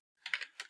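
Quick keystrokes on a computer keyboard: a short, close burst of four or five light clicks typing a search term, with no talking.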